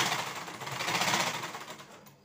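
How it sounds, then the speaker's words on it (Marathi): A sewing machine runs steadily through a seam on a blouse, its fast even mechanical rattle staying close and continuous before slowing and fading out at the end, with no talking. "आता पूर्ण शिलाई मारून घेते"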